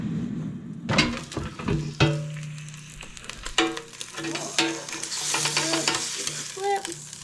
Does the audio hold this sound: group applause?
no